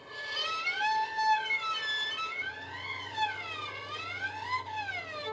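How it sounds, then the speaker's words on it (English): A thin, airy violin tone of harmonics slides up and down in smooth wavering glissando glides, like a ghostly whistle, played alone with no talking. "So that's going to be our ghost sound, is our harmonics."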